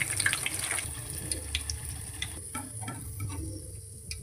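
Green chili pakoras frying in a pan, a soft steady sizzle with faint bubbling and occasional light stirring clicks, fairly quiet and close, no voices.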